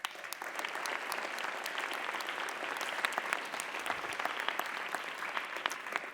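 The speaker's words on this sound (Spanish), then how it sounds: "Adelante, un aplauso para ella." Sustained audience applause at a university panel on social violence and peace, a dense, even clatter of many hands clapping at moderate volume for about six seconds with no talking over it.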